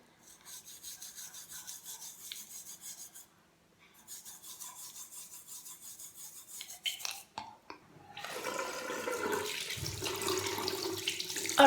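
A bathroom tap runs for mouth rinsing after tooth brushing, starting as a steady close hiss near the end after earlier scrubbing sounds, with no talking.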